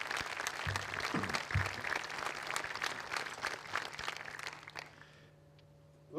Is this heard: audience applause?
yes